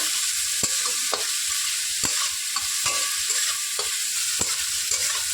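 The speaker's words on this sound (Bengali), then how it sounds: "এইভাবে নেড়ে চেড়ে ভালোভাবে ভেজে নেব।" Ghetkol (giant taro) paste fries in a pan under a constant sizzle, while a spoon or spatula stirs it with sharp knocks against the pan about every half second, close and steady, with no voices.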